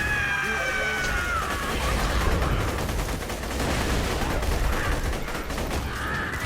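Rapid bursts of gunfire from a weapon in the Borderlands video game, dense and continuous over game sound effects, with someone talking over it.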